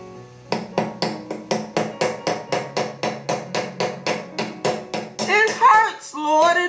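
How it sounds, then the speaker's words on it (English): Roughly twenty evenly spaced hammer blows ring out close and sharp, followed by a few strained vocal sounds near the end. "Some more hammering!"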